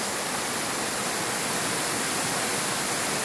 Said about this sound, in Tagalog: Ito guys ang falls mismo ng ano dito guys sa Tudela.